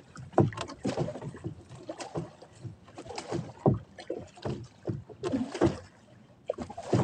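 Oar strokes churn and splash through water in an uneven rhythm, close by, as a boat is rowed in windy conditions after its engine died, with gusts of wind buffeting the microphone.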